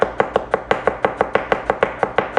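A knife tap-chopping a carrot on a cutting board, with about a dozen crisp, evenly spaced knocks in a steady quick rhythm, close and clear with no talking.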